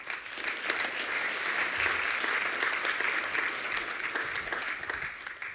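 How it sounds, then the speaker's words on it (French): Steady, dense applause from an audience at a university innovation hub launch, sustained at an even level for several seconds with no voices on top. "Je vous demande de l'applaudir"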